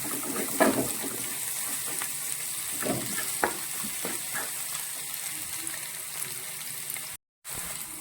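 Garlic sautéing in a pan for prawn pickle, a low steady sizzle broken by occasional sharp spoon scrapes and knocks as it is stirred, with a brief cut near the end.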